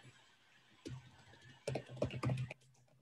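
Faint computer keyboard typing comes in short bursts of key clicks, one brief tap and then a quick cluster of keystrokes, soft and close.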